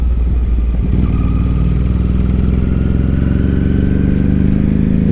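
A 2006 Ducati 749 motorcycle under way, a loud, close engine roar with a steady throbbing exhaust note and slowly rising pitch as it pulls, wind buffeting underneath and no talk.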